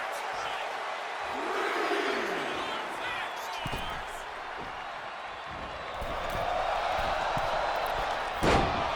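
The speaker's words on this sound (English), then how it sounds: "CM Punk rallying the crowd behind him." A wrestling arena crowd in WWE 2K26 roars and cheers in a sustained swell, with commentary over the noise and a sharp slam near the end.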